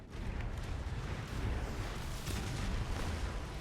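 Naval units open fire in the strategy game Anno 2205, a dense, continuous rumble of overlapping cannon blasts and explosions with no pauses, loud and steady throughout.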